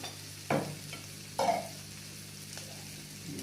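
Sabudana khichdi with peanut powder is stirred in a pan, giving two distinct scraping strokes and a fainter third over a quiet, low background hum.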